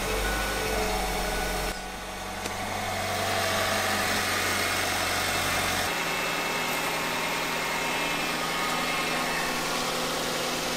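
A Kia Spectra engine converted for go-kart use cranks and catches, then settles into a steady, close idle with a low rumbling hum and mechanical vibration.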